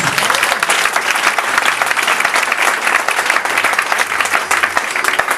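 A church congregation applauding the Lord Jesus, dense sustained clapping from a large crowd filling the space, loud and continuous throughout.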